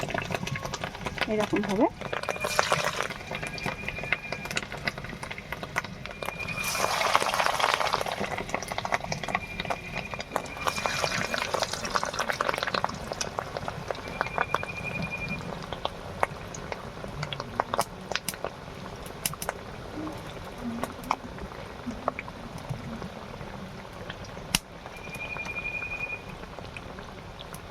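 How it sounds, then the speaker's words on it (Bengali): Lentil and fish roe fritters fry in hot oil with a steady bubbling crackle that runs throughout, swelling briefly at times, while a voice speaks over it. "এবার আমি বড়াগুলো দেবো"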